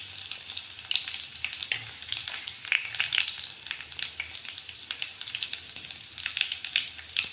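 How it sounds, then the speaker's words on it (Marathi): Garlic fries in hot oil in a pan for methi bhaji, making a steady bright crackling sizzle with frequent sharp pops throughout, close and continuous. "लसूण थोडंसं लाल होईपर्यंत भाजून घेऊयात तेलामध्ये"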